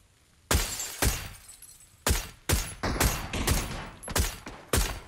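Bursts of gunfire in the shooter game PUBG, several loud sharp shots spaced irregularly over a few seconds, each ringing out with a short decaying tail, no talk.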